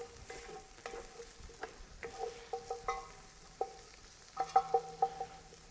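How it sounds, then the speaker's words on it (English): Ground meat and onion frying together in a pan for a smoked brisket chili, a soft steady sizzle broken by repeated scraping and stirring knocks that grow busier toward the end, with no talk. "Yeah, just try and get it all mixed in with the onion, and it can just sort of fry off a bit together"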